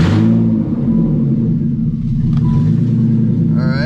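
A BMW E30 with an M50 engine swap rumbles steadily at idle, a low continuous drone that stays even from start to finish.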